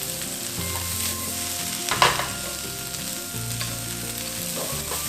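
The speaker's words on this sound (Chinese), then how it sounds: "把它继续一起拌炒" Cauliflower stir-fried with doubanjiang in a hot wok gives off a loud, steady sizzle with scraping spatula stirs, close and continuous, with no voices.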